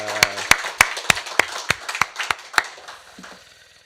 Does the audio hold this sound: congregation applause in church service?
yes